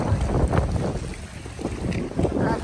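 A small outrigger boat rides on the open sea off a Cebu island, with strong wind buffeting the microphone and a rumbling engine-and-water wash throughout, loud and close, with no clear talk.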